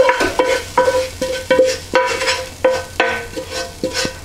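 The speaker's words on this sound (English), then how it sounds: "We take a fairly large oven tray and just empty all of that veg in there." Roasted vegetables being emptied from a pan into a large oven tray, a series of sharp metallic scrapes and knocks in an uneven rhythm, close and fairly loud.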